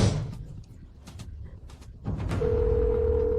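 A telephone on an outgoing call gives a steady ringback tone that starts partway through, over faint background noise and shuffling sounds.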